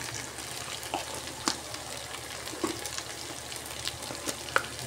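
Ginger and spices fry inside a rice cooker with a soft, steady sizzle, broken by a few faint clicks and light stirring knocks, heard close and alone.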